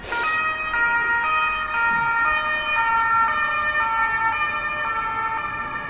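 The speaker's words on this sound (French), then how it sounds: "Donc attention, il y a les pompiers." A fire engine siren passes by loudly with a steady alternating two-tone wail, sounding alone for several seconds.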